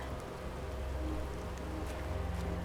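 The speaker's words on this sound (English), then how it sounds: "It's kind of interesting to have it rain." Steady rain falls in the Planet Crafter video game, a continuous soft hiss of drops with a low ambient rumble underneath, even and unbroken throughout.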